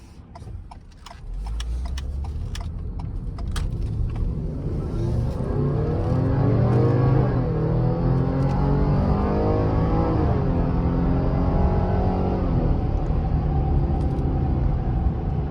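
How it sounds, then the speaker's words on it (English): A naturally aspirated 3.3-litre V6 in a sixth-generation Ford Explorer pulls through a hard acceleration after a U-turn, engine note rising through the gears with a steady close rumble inside the cabin, no talk. "I'm gonna give a nice little hard acceleration one more time, and we're gonna see how it does."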